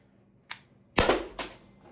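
Sharp, snappy shots from an Umarex HDP50 air pistol: a faint crack followed by two louder reports about half a second apart, close and alone.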